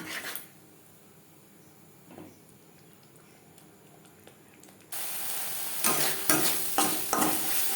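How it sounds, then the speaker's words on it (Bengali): Coconut spice paste stir-fried over low to medium flame for a kakrol malai curry, starting with quiet scraping before a loud, steady sizzle bursts in, broken by stirring scrapes. "3-4 মিনিট লো টু মিডিয়াম ফ্লেমে নারকেলের মশলা বেশ ভালো করে কষিয়ে নেব।"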